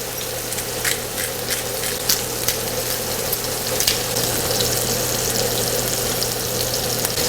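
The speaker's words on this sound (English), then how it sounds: "while my meat is cooking in the pan, I'm simply going to add my seasonings" Ground turkey frying in a pan gives a steady, moderately loud sizzle with faint crackles and light ticking pops throughout, no voices.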